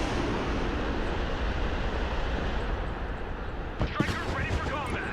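Artillery firing in the Broken Arrow video game: a dense, steady rumble of battle noise, then sharp booming reports near the end, with voice-like chatter mixed in.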